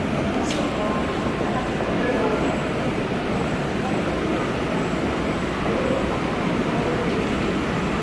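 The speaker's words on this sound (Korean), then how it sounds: "이로써 중앙로 대구역 동대구역 가는 지하철" Daegu subway train running on the metro, a loud, continuous rumble and rolling roar filling the whole stretch, steady with no clear pauses.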